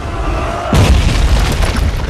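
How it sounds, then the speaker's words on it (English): A loud explosion in the fighting video game Mortal Kombat vs DC Universe bursts in suddenly with a heavy low boom after a quieter stretch, then rumbles on as a sustained roar. "An explosion."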